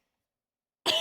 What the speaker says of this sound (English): We're just going to be two pals coughing on stream.